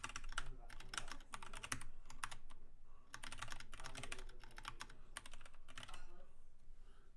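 Rapid bursts of close-up typing on a computer keyboard, keys clacking in uneven runs with brief pauses, captured through a regular microphone input.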